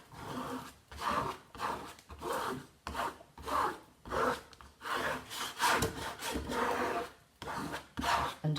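Vinyl lettering on a Christmas canvas being smoothed down by hand, a steady series of close, rhythmic scraping rubs, about a dozen strokes, with no talk.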